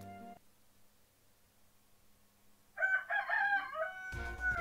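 A rooster crows nearby in a single long, warbling call that rises and holds, set against a quiet background with a short burst of other noise just before it and another right after.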